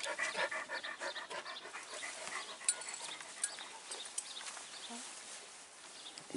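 An old female Kangal dog pants steadily close by, quick rhythmic breaths running throughout with a few sharper clicks and small sounds mixed in.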